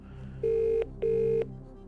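A telephone line rings with two steady electronic tones as a phone-a-friend call is placed on a television quiz show, loud and clear with no talking.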